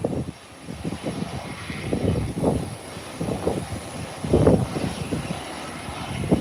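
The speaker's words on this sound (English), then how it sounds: "An American airline has now hit the runway. The Airbus 321." American Airlines Airbus A321 on the runway, a loud sustained engine roar with rumbling low-end surges that swell and fade repeatedly, heard from outside at a distance.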